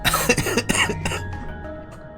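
One person with a chronic cough gives a close burst of several harsh, rapid coughs, then throat noise that fades away with no talking.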